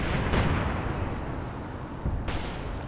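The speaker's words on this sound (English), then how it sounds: "Firefight in the distance is still raging." Distant artillery in the Graviteam Tactics Mius Front wargame, a couple of muffled booms that rise from a steady rumbling background of battle, with no voices.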